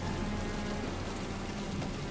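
Steady, dense rain in the video game Heavy Rain hisses evenly throughout, a continuous wash of noise with no other sounds over it.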